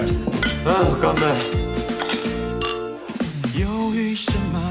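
Drinking glasses clink together in a celebratory toast among friends marking a signed deal, the bright chinks mixed into music and voices.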